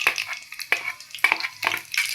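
Black cumin seeds dropped into hot oil in a wok, crackling in a few short, sharp sputtering bursts at close range.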